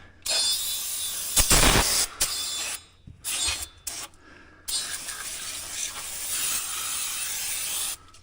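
Bursts of brake cleaner aerosol spray hiss, a long loud blast followed by several short sprays and a steady stretch of hissing, close by with no talking, while servicing the clutches of a 2023 Polaris.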